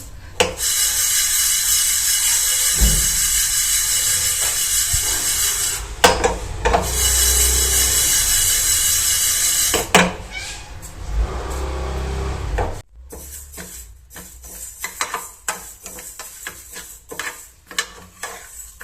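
A cup of pearl millet dry-roasts in a pan, a steady dry scraping and rustling as the grain is stirred, loud and close, then giving way to sparser scrapes and knocks.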